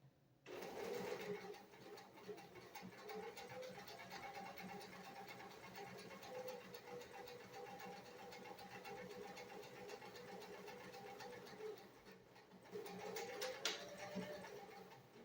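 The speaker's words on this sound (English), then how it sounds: "I'm going to do a few stitches forward, just like before, and a few stitches back to secure our thread." A sewing machine runs steadily while stitching a hand towel, a continuous mechanical whir with a brief pause near the end before it starts again, forward stitches followed by reverse stitches to lock the thread.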